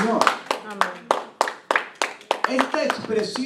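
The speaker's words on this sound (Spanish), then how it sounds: "denles aplauso al Señor." A church congregation claps together during a sermon, sharp hand claps falling in a fairly regular rhythm, close and loud, mixed with voices talking and calling out over the beat.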